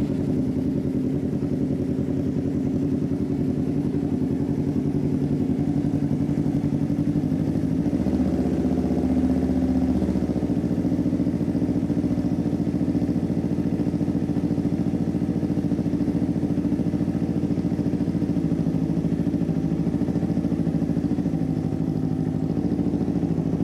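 A 2015–2018 Yamaha YZF-R3 sport motorcycle idles steadily just after its first start. It makes an even, close, mid-pitched engine burble that holds for the whole stretch with no revving.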